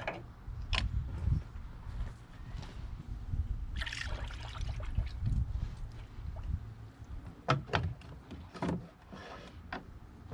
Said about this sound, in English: I have filled about 10 liters of coolant into the system